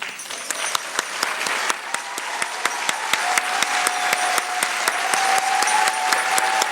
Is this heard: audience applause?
yes